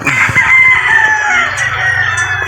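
Gamefowl roosters at a game farm crow loudly and close by, one long drawn-out crow dominating with other birds clucking and crowing in the background.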